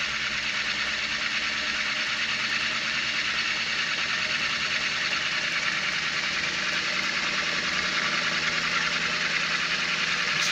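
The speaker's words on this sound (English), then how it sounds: "Now I have both motors going." Two electric motors running together through magnetic gears on a motor-generator test rig, a steady close-up whir with constant hum and vibration, even and unbroken throughout with no talking.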